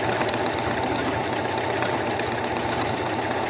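An Elna 680 sewing machine stitches a mending seam with a steady, dense mechanical whirr that holds even and loud throughout, with no talking.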